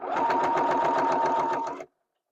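A sewing machine stitches leather in one continuous burst of rapid, even mechanical chatter close by, lasting under two seconds before cutting off into silence.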